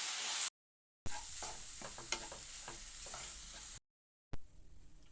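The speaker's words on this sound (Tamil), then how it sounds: "இதையும் சேர்த்து நல்லா வறுத்துக்கலாம் பச்சை வாசனை போகிற வரைக்கும்." Semolina and grated beetroot roasting in a pan while being stirred, a dry close sizzle with scraping spoon strokes, broken by two brief silent gaps.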